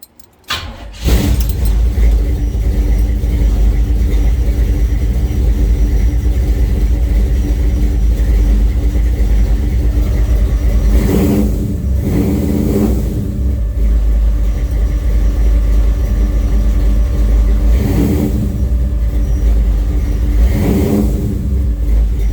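A 1970 Chevelle engine cold-starts after a brief crank, then idles loudly and steadily with several rev blips swelling in the middle and toward the end, heard from inside the car.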